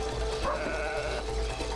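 A sheep bleats in the co-op video game It Takes Two, a clear, wavering cartoonish bleat heard over steady game background sound.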